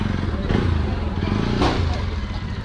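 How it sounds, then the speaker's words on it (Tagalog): A motorcycle engine idles and rumbles steadily on a street in Marikina, loud and close, with brief clatter and background voices. "itong motorsiklo"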